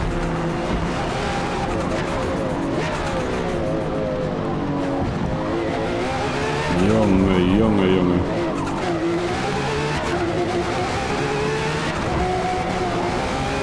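A Lotus race car in Forza Motorsport roars at high speed around Le Mans, its engine note loud and sustained with a rising whine and brief tire squeal midway, while someone talks excitedly over it.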